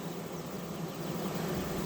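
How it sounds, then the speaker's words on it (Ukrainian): Steady, continuous buzzing of many honeybees, close and dense, with no voices. "хай бджоли обнюхуються"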